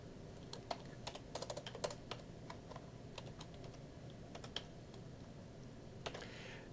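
Quiet keyboard typing of a password, scattered light key clicks in irregular bursts against a faint background hiss, with no talking.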